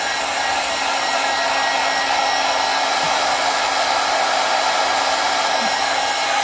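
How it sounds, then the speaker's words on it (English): A heat gun blows on a VW Golf GTI Mk5 headlight during refurbishing, giving a loud, steady, unbroken hot-air roar with no voices. "And then instantly get on it with the heat gun"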